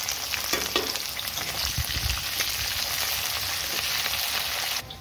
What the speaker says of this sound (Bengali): কড়াইয়ের তেলে আমি ভেজে নেব এই কাটা পেঁয়াজকে হাই ফ্লেমে রেখে